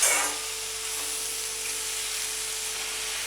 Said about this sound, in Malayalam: നമുക്ക് നന്നായിട്ടൊന്ന് വഴറ്റിയെടുക്കണം.